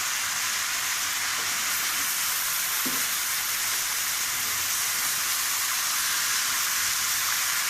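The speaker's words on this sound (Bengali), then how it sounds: "এই যে সবজিটা কিন্তু কষিয়ে এসেছে" Winter vegetables with ground spice paste sauté in a pan beside a fish head, giving a dense, even hiss and sizzle throughout, with a few soft stirring knocks and no voices.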